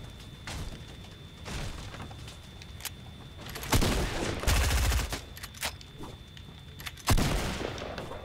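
Video game gunfire in Fortnite (Chapter 2 Season 5), with shotgun blasts and bursts of rapid shots cracking out in clusters, loud and close, with louder heavy bursts toward the middle and end.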